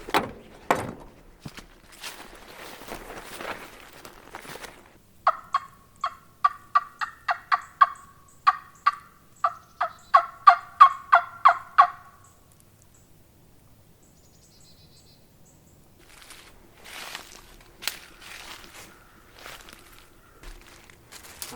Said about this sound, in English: if I hear a gobble